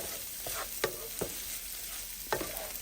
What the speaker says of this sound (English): I'm going to give this all a really good stir and let this cook up for roughly a minute